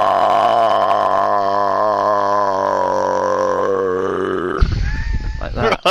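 A man imitates a huge, horrendous belch with his voice, a long sustained guttural croak lasting several seconds, loud and close, ending in a rougher sputtering burst.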